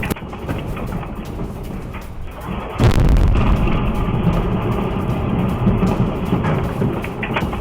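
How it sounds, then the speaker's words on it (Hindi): A heavy, booming missile-strike blast from a cluster bomb warhead in a residential area hits suddenly, followed by a sustained low rumble and roar that keeps going afterward, with no voices present. "रिहायशी इलाके में ये धमाका हुआ है।"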